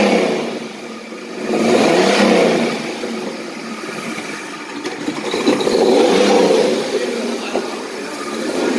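A restored Pontiac Fiero engine runs loud and close, swelling in two long revs before settling back toward a rough idle.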